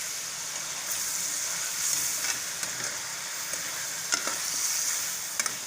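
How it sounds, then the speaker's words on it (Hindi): Pieces of chicken fry in a pan, a steady close sizzle and hiss with occasional scrapes of stirring over about six seconds and no voices. "ये फ्राई हो जाता है चिकन"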